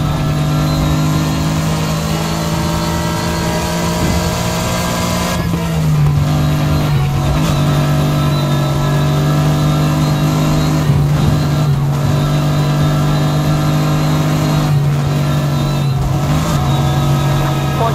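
A car engine from a police pursuit in NFS Heat drones loud and continuous, holding a steady rev with slight pitch shifts, while a faint voice is heard through it.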